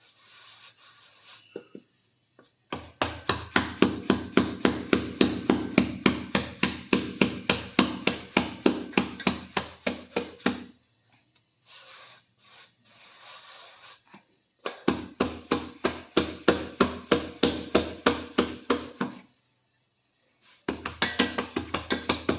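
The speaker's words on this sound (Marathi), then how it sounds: "आणि खाली थोडंसं पीठ घालून भाकरी थापून घ्यायची आहे" Bhakri flatbread dough is patted flat by hand on a floured surface, giving loud, rapid, evenly spaced slaps in long bursts separated by short pauses, with no talking.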